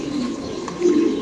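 A Spanish pigeon at a home pigeon farm gives low throaty coos, close and fairly loud, with a stronger swelling coo near the end.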